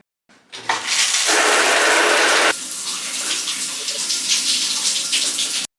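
Water from a shower starts after a click and runs in a loud, steady hiss, the spray shifting to a slightly softer, splashing tone midway, then cuts off abruptly.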